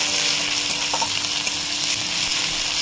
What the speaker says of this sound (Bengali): আদা রসুন ভালো করে ভেজে নিয়েছি